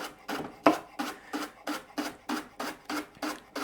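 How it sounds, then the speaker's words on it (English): A knife slicing leek into fine rings on a cutting board, about ten evenly paced crisp cuts close up, each a short crunchy stroke, with no talking. "So I'm just cutting that into rings, nice and fine."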